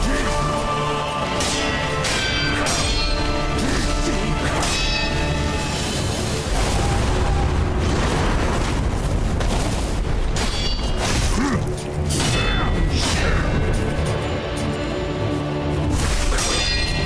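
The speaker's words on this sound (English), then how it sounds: "Let's try firecrackers." Firecrackers going off in the video game Sekiro, a dense run of sharp bursts and booms layered over game music and sound effects, loud and continuous throughout.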